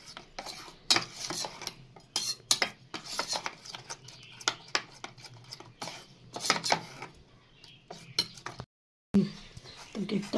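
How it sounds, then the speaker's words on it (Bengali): Metal spoon scraping and clinking against a bowl while cake batter is mixed, in irregular bursts of close scrapes and taps, with a brief pause near the end. "তো কিছুটা ব্যাটার দিয়ে মিশিয়ে নিলাম"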